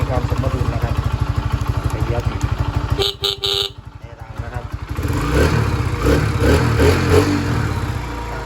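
A Honda Sonic 125 motorcycle with a freshly tuned carburetor idles close by in a steady low putter, briefly interrupted by a short horn-like tone, then revs up louder and rougher toward the end.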